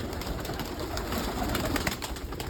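Pigeons coo steadily over a busy background of fluttering and rustling, with no talking, the soft calls overlapping throughout.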